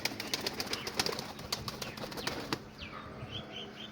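Pigeons flapping their wings at a pigeon-keeper's loft, a dense run of close, rapid wingbeats for about two and a half seconds before fading, with faint chirps afterward.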